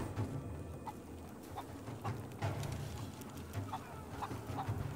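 A chicken clucking in the video game Rise of the Tomb Raider after being picked up, soft repeated clucks at an irregular pace over a quiet ambient background.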